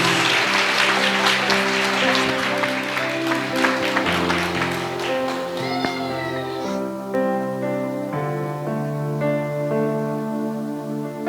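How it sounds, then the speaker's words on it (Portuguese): A church congregation claps in praise, a steady patter of applause heard beneath sustained keyboard chords and music that carry through the whole stretch. "Vamos aplaudir o Senhor Jesus."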